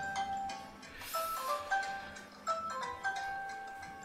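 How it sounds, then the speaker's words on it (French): A phone ringtone chimes in short repeated melodic bursts during a video game session, fairly faint over a soft background hiss. "Forcément le téléphone qui sonne."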